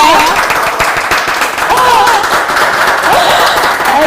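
An audience at a talk event about creative workers during the pandemic claps steadily, a dense, loud patter of hands, with voices speaking and laughing over it throughout.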